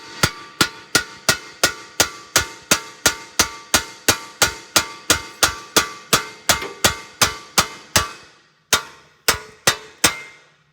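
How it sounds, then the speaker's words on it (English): Rapid series of sharp metallic hammer blows on a Lexus IS300 ball joint, about twenty strikes in steady rhythm, then a short pause and a few final hits, close and loud. "grab your hammer again, smack."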